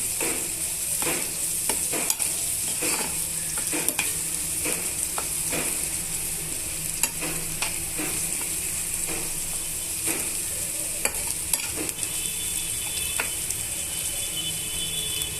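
Chopped onion, peanuts, green chillies and seasoning seeds frying in a pan, a steady sizzle broken by repeated sharp scrapes and taps of a spatula at an irregular rhythm, close and without speech.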